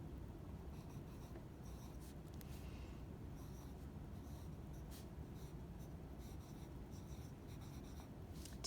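A pencil scratches steadily on paper during a handwriting lesson, a soft continuous close-up rustle with faint scraping strokes and no talking.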